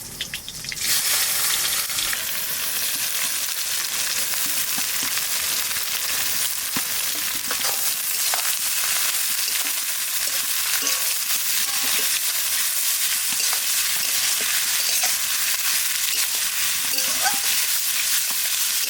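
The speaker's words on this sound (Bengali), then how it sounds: "পেঁয়াজ ভেজে নরম করে নিয়েছি" Onions frying in mustard oil in a pan for a mutton curry, a steady loud broadband sizzle running without a break, with a few faint clicks and scrapes underneath.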